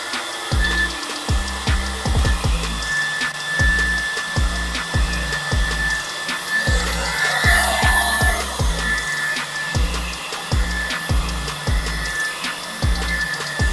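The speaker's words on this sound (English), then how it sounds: "Now Nidge is going to apply the hairdryer, and we're going to keep heating it" A hair dryer heats paint protection film on an Audi RS3 in a detailing shop, its whirring airflow steady and near while rhythmic low thumps pulse underneath.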